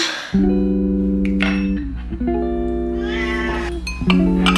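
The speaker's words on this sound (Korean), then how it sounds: "누가 야옹 소리를 냈어?" Long, tonal meow-like cries repeat in quick succession, loud and close, each a sustained wavering note with a slightly synthetic ring.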